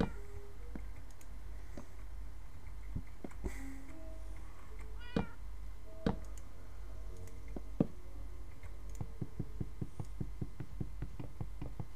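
A Minecraft cat gives a few short, quiet meows over a soft background of clicks and ticks from the game, with no talk.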